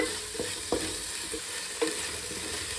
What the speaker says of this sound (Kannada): ಕೊತ್ತಂಬರಿ ಸೊಪ್ಪು, ಪುದೀನ ಸೊಪ್ಪನ್ನು ಅಷ್ಟೇ ಚೆನ್ನಾಗಿ ಎಣ್ಣೆಯಲ್ಲಿ ಫ್ರೈ ಮಾಡಿ